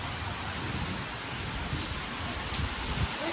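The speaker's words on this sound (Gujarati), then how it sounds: "જો મસ્ત વરસાદ આવ્યો. ફૂલ ધમધોકાર." Heavy rain pours down steadily onto a road and open ground, a dense, even roar of countless drops that holds at a constant loudness throughout with no voices.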